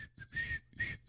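A person whistles a short tune, clear tonal notes rising and falling in a few quick phrases, close and alone.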